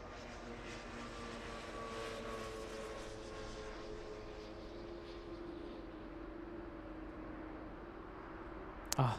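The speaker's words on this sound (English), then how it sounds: "Queen of the Skies, 747, never gets old" A Boeing 747 jet airliner rolling at LAX, a loud sustained engine roar with steady tonal whine, close and continuous, ending with a brief sharp burst.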